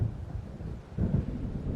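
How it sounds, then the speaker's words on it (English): Low rumbling thunder of an approaching storm in the Alan Wake video game, a deep continuous roll that swells midway, with faint rain and wind noise beneath and no voices. "It seems there's a storm coming."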